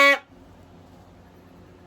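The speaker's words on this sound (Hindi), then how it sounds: "दोस्तों पापा जी मेरे लिए भोंपू लाए हैं, देखो हाथी वाला, हाथी का सोंड।" A toy horn shaped like an elephant's trunk gives one short, bright blast, which cuts off quickly into near silence.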